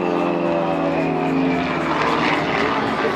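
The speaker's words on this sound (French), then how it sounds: "L'avion Moustique qui vient de passer" A Socata propeller training plane passes at the 2025 Biscarrosse air show, its engine a loud, steady droning roar with a sustained tonal hum that swells slightly as it goes by, with no voices over it.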